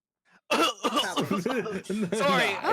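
A person coughs and splutters several times in a row after water went down the wrong pipe, sounding choked and close, mixed with throat-clearing and strained vocal noises.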